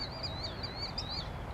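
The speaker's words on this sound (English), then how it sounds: "little baby ducks" Baby ducks calling outdoors, a quick run of thin, high-pitched peeps and quacks close by over a low background rumble.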